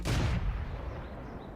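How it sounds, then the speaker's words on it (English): A single tank gun shot at a Panzer IV in World of Tanks, a loud blast at the start followed by a decaying rumble over under two seconds, with no talk. "See if we can get some shots on this Panzer IV."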